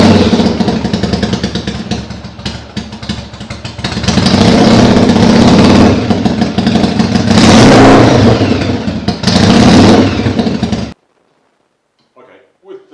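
A Yamaha XV750 motorcycle with new exhaust pipes and the baffles removed revs hard and loud nearby in repeated rising bursts over a rough idle, then cuts off abruptly into near silence.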